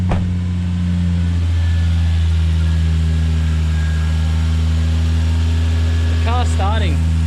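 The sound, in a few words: car engine starting and idling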